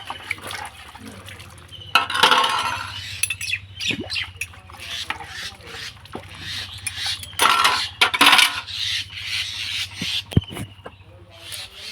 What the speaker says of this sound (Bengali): তাই থালাটা ধুচ্ছি, থালা কোনটা।